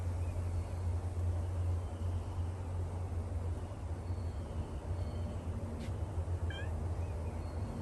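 A cat gives a few short, faint meows late on, heard over a steady low hum and background noise; a man coaxes it softly nearby.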